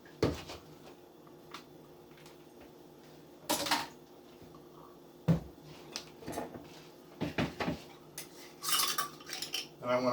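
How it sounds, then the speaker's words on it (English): Shirataki noodles shaken in a colander give a few sharp metallic clatters and rattles, scattered in separate bursts with quiet gaps between them, close by in a kitchen. "I'm going to shake in that colander."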